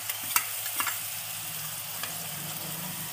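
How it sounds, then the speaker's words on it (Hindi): An onion, garlic and ginger paste sizzles softly in hot oil, a steady crackling hiss broken by a few light scraping clicks of stirring. "इसमें हम प्याज लहसुन अदरक का पेस्ट डालेंगे और इसको दो मिनट तक भूनेंगे"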